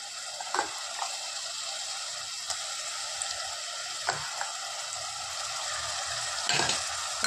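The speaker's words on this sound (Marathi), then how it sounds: "हे आपण व्यवस्थित परतून घेऊ तेल येईपर्यंत" Ground spice paste with onion, asafoetida and salt fries in oil for a pea curry, hissing steadily up close while a spatula clicks and scrapes against the pan every second or two.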